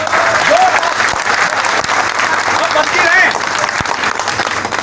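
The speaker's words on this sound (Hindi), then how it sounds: "जोरदार तालियां बजती रहे, तालियां" A crowd at a community gathering claps hard and continuously, a thick wash of applause with a few faint voices and whistle-like calls rising briefly above it.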